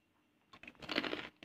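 Fried opak cassava crackers are bitten with a short burst of crisp, dry crunching, close and fairly quiet, followed by a brief crackle.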